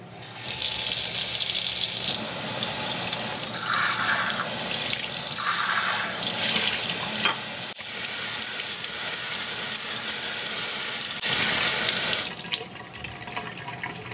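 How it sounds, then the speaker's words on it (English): Cold tap water runs in a steady, loud stream through a strainer full of tomato seeds, with a few brief changes in the flow and a short pause before it resumes near the end. "We're going to pour our seeds into this strainer and then rinse with cold water."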